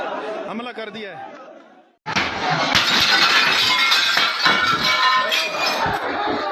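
A car window's glass is smashed during a tense arrest scene: after a short stretch of voices, a sudden loud break sets off sustained crunching and clinking of glass, with shouting crowd voices over it throughout.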